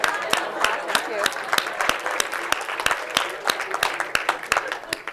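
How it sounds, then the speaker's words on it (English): A seminar audience on improvisation in medicine claps for their conversation partners, a lively patter of many hands in an indoor room. The applause holds steady for several seconds with some voices mixed in. "Please give your partners a clap."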